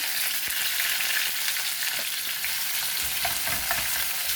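Onion and garlic with bay leaf and green chili fry in a pan, giving a dense, steady, close hiss of sizzling oil with a few faint utensil taps and no voices.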